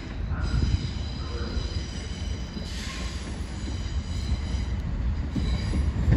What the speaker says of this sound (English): Cross Country service coming in, going to Edinburgh.